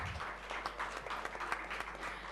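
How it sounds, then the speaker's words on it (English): Dense audience applause at an e-commerce user experience event, steady and close, with a low constant hum beneath it. "Thank you for the applause."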